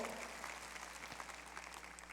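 Applause from a church congregation at a Guatemalan sermon, a steady wash of many hands clapping at moderate level, continuous for the whole moment with no one speaking over it.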